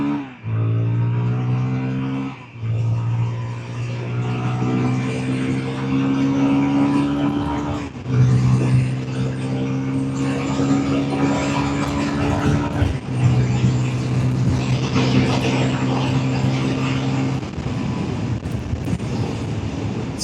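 A Royal GPX Demon GR250R motorcycle engine revs and accelerates, its tone climbing and dropping with gear changes, with steady wind rush over the microphone throughout.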